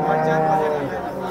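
At a cattle market in Sangola, a farmer's cow gives a single drawn-out moo, fairly close, with people talking around it.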